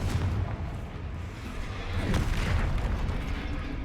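A Confringo fire spell from the Hogwarts Legacy video game bursts into a loud, rumbling explosion with a heavy low boom that rolls on for several seconds without pause.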